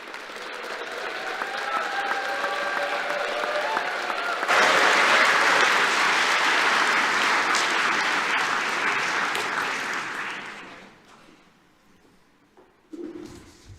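A graduation-ceremony audience applauds graduates: a dense, loud wash of clapping that swells and holds for several seconds, then fades out into quiet with a brief final burst.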